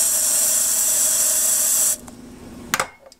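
A loud, close hiss of oil spraying from a can for about two seconds, then a few short clicks and handling noises.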